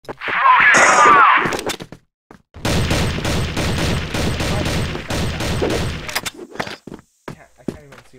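Video game gunfire, sharp shots and bursts in a multiplayer match, comes in clusters over a few seconds, with a brief high whine at the start and quieter clicks trailing off.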